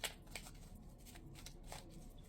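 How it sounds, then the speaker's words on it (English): A deck of cards being shuffled by hand, heard as a faint rapid riffle of crisp clicks and flutters, with no talking. "let me shuffle, let me shuffle, let me shuffle"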